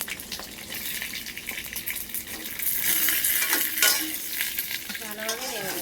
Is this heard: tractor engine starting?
no